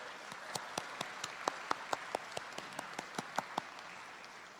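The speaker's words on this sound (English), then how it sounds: "let us give a big round of applause to our very special guest this morning" Sparse, evenly spaced hand claps, quiet and somewhat distant, greet a special guest at an International Day of Yoga morning event. The claps sound like only a few people clapping, with no voices.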